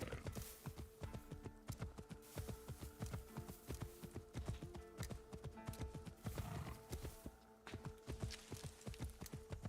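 Rapid, steady clip-clop of horse hooves in Assassin's Creed Shadows, loud and close, continuing throughout with a brief whinny partway through.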